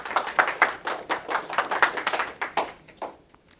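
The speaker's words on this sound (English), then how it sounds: "Round of applause for Bench" Audience applause at an academic talk on racial capitalism and the 1970s Bronx, greeting the speaker after an introduction: a close patter of claps that holds steady for about three seconds, then thins out and fades.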